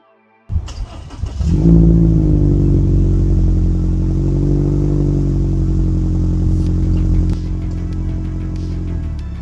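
A 2021 Subaru Crosstrek Sport on an off-road trail at Peacock Flats, its engine rising from idle into a steady, loud drone with some clatter, heard from close by without talk.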